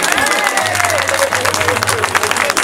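Applause and cheering from a crowd at a single launch event calling for President Gbagbo's release, dense clapping mixed with voices and shouts, a steady low hum running underneath.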